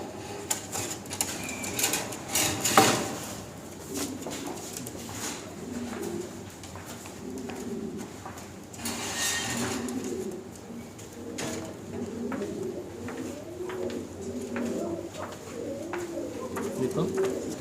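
Arabian pigeons cooing in a loft, soft repeated low coos with scattered clicks and wing or cage knocks, close and moderately loud, with people talking at times.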